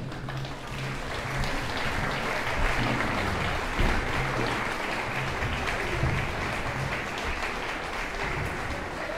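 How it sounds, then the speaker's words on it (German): An audience at a youth music concert applauds the young musicians on stage with dense, continuous clapping that stays loud and even throughout. "Vielleicht noch einen Applaus für die Gangster, die jetzt noch oder schon wieder auf der Bühne sind."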